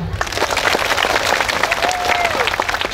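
An audience at a religious gathering breaks into loud, dense applause that holds steady throughout, close and full, with a brief voice rising faintly through the clapping.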